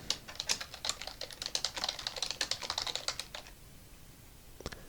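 Quick bursts of keystrokes on a computer keyboard as a script name is entered, a steady close clatter for about three and a half seconds, then quiet with one last pair of taps near the end.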